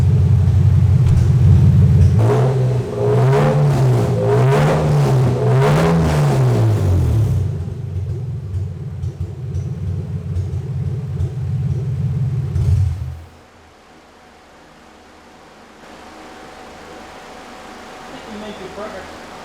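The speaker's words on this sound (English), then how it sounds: "the car is idling better after we reset the codes" A Lexus IS300 engine with blown catalytic converters rumbles low and steady at idle while someone talks over it, then the rumble suddenly drops away, leaving quieter background noise.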